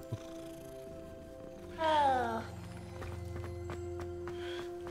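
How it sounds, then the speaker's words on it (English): A cat in the Hogwarts Legacy video game gives one clear, drawn-out meow, followed by soft low purring and quiet game ambience, with no talking. "Pet the kitty."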